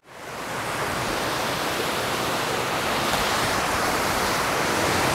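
A Columbia River Gorge waterfall, heard from below, makes a loud, steady, broadband rush of falling water that swells in quickly and holds without a break.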